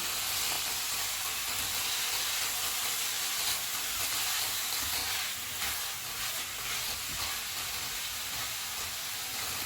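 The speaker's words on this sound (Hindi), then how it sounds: "Chilli sauce, soya sauce, green प्याज। इनको मिक्स करेंगे और 1 मिनट तक पकाएंगे।" Vegetables sizzle in a pan with chili sauce, soy sauce and green onion for a spring roll filling, producing a steady, fairly soft hiss throughout with no talking.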